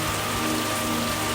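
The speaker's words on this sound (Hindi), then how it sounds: "माँ देखो, बारिश आ गई।" Rain pours down in a cartoon village scene, a dense, steady hiss of many drops hitting the ground, continuous and fairly close with no voices.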